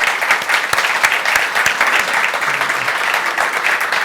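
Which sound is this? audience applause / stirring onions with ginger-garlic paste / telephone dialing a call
audience applause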